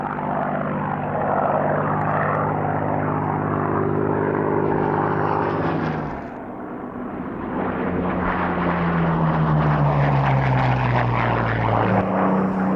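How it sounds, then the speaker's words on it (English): A Supermarine Spitfire Mark 1A propeller fighter flies past at a Duxford airshow. Its loud, steady piston-engine drone swells, dips briefly mid-pass, then returns with rising and falling engine harmonics. "Another of the oldest surviving Spitfires is this Mark 1A"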